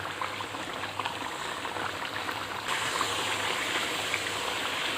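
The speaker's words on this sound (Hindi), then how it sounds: "अब इसको हम ढक्कन उतार के पका लेते हैं ताकि जो इसका पानी है वो अच्छी तरह से ड्राई हो जाए" Hot and spicy desi-style pasta simmers uncovered in a pan as its water cooks off, a continuous bubbling, sizzling hiss that grows slightly louder halfway through, with no talking.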